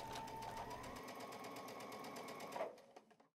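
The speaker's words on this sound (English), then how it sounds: "and then we'll head to the sewing machine and stitch." A sewing machine stitches quilt triangles in a fast, even whir, then slows and stops near the end.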